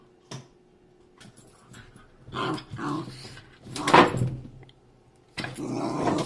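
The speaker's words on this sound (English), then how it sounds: "this is the noise that you've been hearing from my dog" A dog plays with a giant orange toy indoors, giving scattered thumps, squeaky rubbery noises and soft growls in uneven bursts at close range, with no talk.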